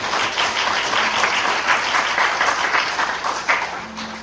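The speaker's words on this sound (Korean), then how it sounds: "예비 여러분 축하의 박수 부탁드립니다." Wedding guests at a ceremony break into a loud, dense round of applause. Many hands clap steadily for about four seconds, close and full, with no pause.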